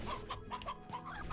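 Hens in the video game Slime Rancher cluck busily in a dense, overlapping flock, a steady stream of short close-up calls running throughout.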